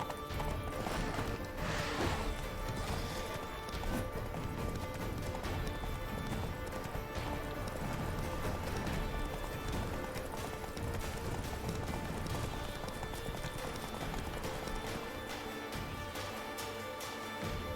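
Continuous galloping hoofbeats under a dense, loud soundtrack from The Witcher 3, with a brief neigh early on; the rhythm stays driving throughout.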